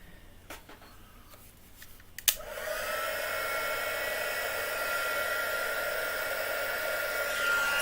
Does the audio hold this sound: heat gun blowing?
yes